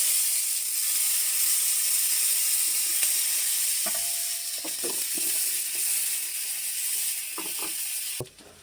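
Chopped onion frying in mustard oil, a steady hiss of sizzling with a few scraping stirs toward the end, close and unaccompanied by speech, stopping abruptly.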